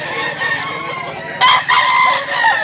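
A Talisay gamecock crows loud and close at a poultry farm in Mantalungon, Cebu, in two strong bursts over steady farmyard background noise.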